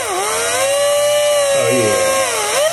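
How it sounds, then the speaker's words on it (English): A power drill bores holes into the side of a wooden box, its motor whining at a steady, loud pitch that dips as the bit bites into the wood, then recovers. "I'm drilling a little couple of holes in the side of this box here."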